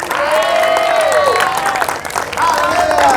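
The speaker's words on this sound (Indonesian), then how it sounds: "Tepuk tangan buat Tuhan yang meriah." Church congregation applauds at a service, a broad wash of clapping beneath a sustained, pitched voice or singing that carries over it.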